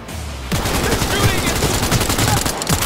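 D5 Copperhead assault rifle firing continuously in Cyberpunk 2077, loud close rapid automatic shots in a sustained burst after a short quieter lead-in.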